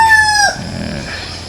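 A one-year-old rooster, half Aseel and half KMK Blues, crows once up close, a loud rising then falling call that breaks off abruptly and trails into quieter farmyard background.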